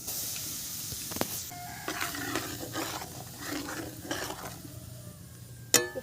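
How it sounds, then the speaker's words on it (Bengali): Black cumin, turmeric and chili powder hit hot oil in a pan while cooking sorshe ilish, giving a soft steady sizzle and hiss with occasional stirring scrapes and utensil clinks, ending with a sharp metallic clank. "এবারে আমি ফোড়নে দিয়ে দিচ্ছি কালো জিরে, আর দিয়ে দিচ্ছি এখানে হলুদ গুঁড়ো, লঙ্কার গুঁড়ো।"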